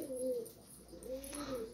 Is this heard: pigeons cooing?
yes